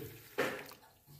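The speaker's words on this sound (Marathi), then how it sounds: "आता ते भाजून घेतले ते आता पाण्याने धुवून घेऊया स्वच्छ" A short splash of water as roasted moong beans are rinsed, one brief burst standing alone and fairly faint.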